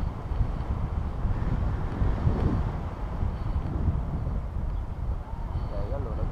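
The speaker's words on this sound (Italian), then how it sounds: "allora giù non c'è di questo vento" Steady, loud wind buffets a microphone outdoors, a continuous low rumbling roar that covers the whole stretch with no clear pauses.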